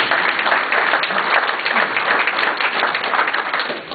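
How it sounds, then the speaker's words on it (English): An audience breaks into a steady round of applause, full and continuous, tapering slightly at the very end. "Give yourselves another round of applause."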